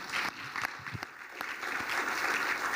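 An audience at a stabilization forum applauds the eight governors, dense clapping throughout that dips briefly then swells again, with a few louder individual claps standing out.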